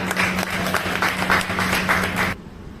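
Audience applause after a poem recital at a talent event, a dense, steady wash of clapping that carries on for over two seconds, then cuts off abruptly to near silence.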